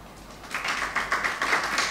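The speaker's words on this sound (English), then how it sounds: "Let's applaud them" An audience at a university retirees' association inauguration applauds distinguished guests, clapping swelling from quiet to a steady, moderately loud patter of many hands.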